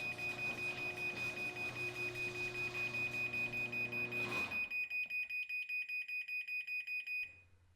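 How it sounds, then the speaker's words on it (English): A high electronic beep from a MyQ smart garage door hub pulses rapidly and steadily for several seconds, warning that the door is about to close, then stops abruptly, leaving near silence before a faint low hum returns. "it will beep indicating that the garage door is going to close"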